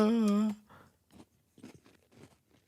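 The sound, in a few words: crunching a giant Cheez-It cracker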